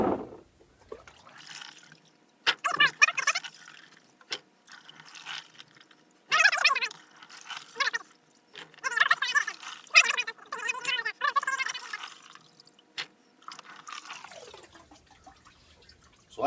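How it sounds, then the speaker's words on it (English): Running water pours over green olives in a colander in a kitchen, heard as intermittent splashing, gurgling bursts with drips and trickles, separated by quiet gaps. "I rinse them under running water once I get them all out of the container."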